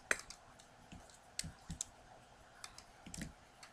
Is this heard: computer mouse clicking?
yes